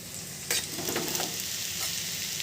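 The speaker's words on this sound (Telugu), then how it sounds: "మనకి బినిస్కాయ అయితే బాగా ఫ్రై అయిపోయింది" Steady, loud sizzling of beans frying in a pan, with a few scraping stirs of a spatula on top; close by, no voices.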